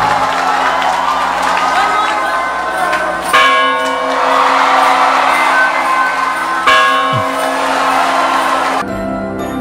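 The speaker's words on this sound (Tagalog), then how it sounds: "Ngayon ulit maririnig ulit ang kampana." A large church bell rings with long sustained tones, heard again after 117 years, struck again twice, over a loud rumbling crowd and background noise.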